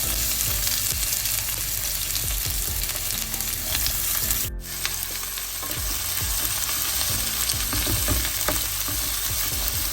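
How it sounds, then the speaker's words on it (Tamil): Onions frying in hot oil in a pan on the stove, a steady loud sizzle and crackle with stirring scrapes, close up and without talking. "எண்ணெய் கொதிச்ச பிறகு வெங்காயத்தை இதோட சேர்க்கிறேன்."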